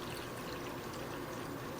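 Distilled white vinegar pours steadily into a hot sauce mix in a home kitchen, a continuous close liquid splash and trickle with no talking.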